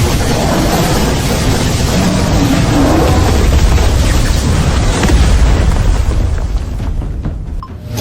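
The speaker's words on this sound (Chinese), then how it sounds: "给我用最强的法术，火力覆盖，轰死他" A loud, sustained barrage of explosive magic spells in an animated battle against a dying high-grade monster, with dense booming blasts rolling continuously for about seven seconds before easing off at the end.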